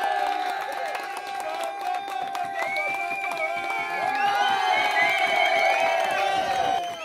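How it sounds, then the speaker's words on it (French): A crowd claps and cheers loudly and steadily, with whoops rising over the applause as a bright melody plays alongside. "On peut les applaudir."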